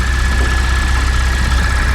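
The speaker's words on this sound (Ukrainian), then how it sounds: "Я автомобіль оставляю заведений для того, щоб ви могли почути, як працює двигун даного автомобіля." A Mercedes car engine idles steadily with a low, even rumble and a faint whine above it, continuous and close, with no voices.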